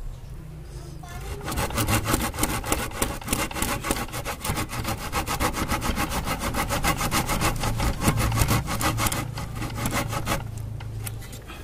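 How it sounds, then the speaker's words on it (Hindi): A multi-functional hand tool's saw cuts through wood in fast, steady back-and-forth strokes. The rasping is loud and close and runs continuously for about ten seconds before stopping. "आरी का टेस्ट कर ही लेते हैं।"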